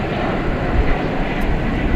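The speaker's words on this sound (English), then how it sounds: "Frontier Flight 3999, you might have seen it go through your shot there." A Frontier Airlines airplane departs Dallas Fort Worth International Airport at night, its engines producing a loud, steady broadband roar with a deep low rumble that stays continuous throughout.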